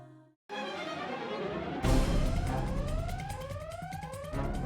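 A wailing emergency vehicle siren rises and sweeps repeatedly, loud and close, joined partway by a harsher yelping tone.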